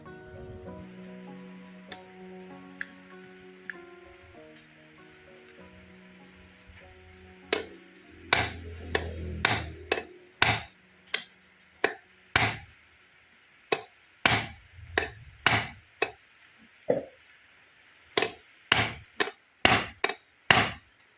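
Nails are hammered in while clutch rubber is installed: sharp, close blows in an uneven series that come faster and louder after a quiet opening with a soft tonal background.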